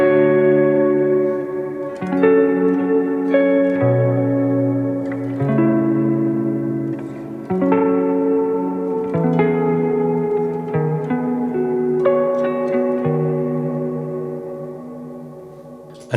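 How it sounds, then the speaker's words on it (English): Guitar chords pass through a cassette-emulation delay on an ambient pedalboard, each sustained chord changing every second or two with a soft, wavering, echoing tail. Clean and alone, with no voices. "One of my favorite sounds is this sort of like cassette emulation."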